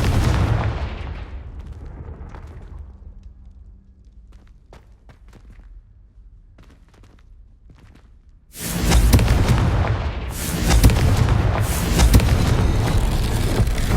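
Confringo spell blasts in the video game Hogwarts Legacy: a rumbling boom fades into quiet, then a second loud burst of explosions roars and sustains at close range.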